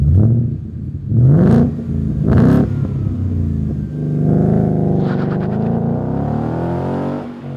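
A supercharged 2015+ S550 Mustang with a stainless steel axle-back exhaust blips its engine twice in quick, loud revs, then holds a longer rising, droning rev before settling.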